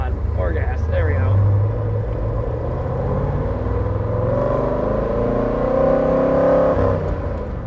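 A 1963 Chevrolet Corvette Stingray engine rumbles loudly from inside the car as it pulls away, the revs climbing smoothly over several seconds, with a voice briefly heard over the engine.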